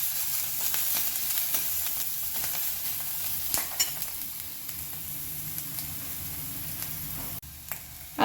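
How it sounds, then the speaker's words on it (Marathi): Ginger frying in hot oil for a fasting kachori filling, a steady close sizzle with occasional stirring scrapes, no voices. "आता आपण त्यामध्ये अद्रक घालून घेणार आहोत. ते देखील आपण छान फ्राय करून घेणार आहोत."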